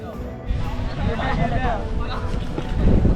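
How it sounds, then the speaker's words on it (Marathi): Wind blows outdoors in a Konkan village near Chiplun, a steady low buffeting rumble on the microphone under people talking nearby. "वारा चालू झालेला आहे अशा प्रकारे"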